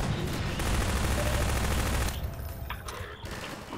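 Dense rapid gunfire in the video game Half-Life 2 Episode One, a loud sustained volley for about two seconds that then drops to sparser, quieter shots.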